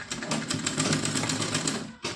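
Sewing machine stitching pleats into a small cotton dress, a steady rapid run of needle clatter that stops briefly near the end before restarting, close and alone.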